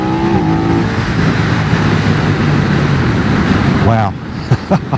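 BMW F 900 R motorcycle launching hard from a standstill, a loud, steady close-up engine roar holding for about four seconds before cutting off, followed by a few brief bumps.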